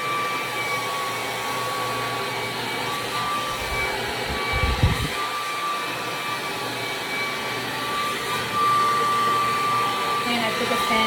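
KISS Red Tourmaline ceramic hair dryer running on its hot setting with the fan on level 2, a steady, close whooshing roar with a thin whine that holds for several seconds, with a brief low thump partway through.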